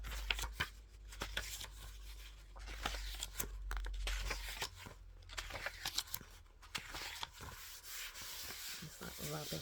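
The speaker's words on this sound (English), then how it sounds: "Just like rubbing the pages and scratching." Close, soft rubbing and scratching against book pages, with dry brushing strokes and occasional crisp rustles in an uneven rhythm, no talking.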